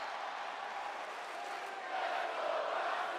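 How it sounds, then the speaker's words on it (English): A wrestling arena crowd in WWE 2K25 roars in a steady wash of shouting and chanting, swelling louder in the second half of the moment. "See, I can't understand what the crowd's shouting there."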